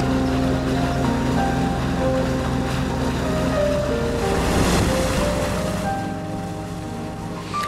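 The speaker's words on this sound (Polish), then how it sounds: "fale wzbijane przez motorówki i jachty nie przeszkadzają miłośnikom wędkowania" Lake waves stirred up by passing motorboats and yachts on the Great Masurian Lakes in Poland, a loud, steady wash of water with wind rumble throughout and a low boat hum underneath.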